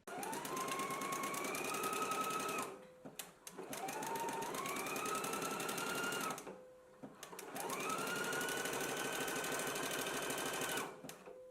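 A sewing machine runs in three long bursts stitching a 5/8 inch seam joining garment back pieces, each run rising in pitch as it speeds up, with short quiet pauses between.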